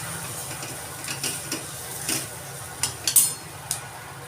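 Korean-style Maggi noodles sizzle softly in a pan while a utensil stirs and scrapes, giving a few light clinks and taps over a low, steady frying hiss, close and quiet.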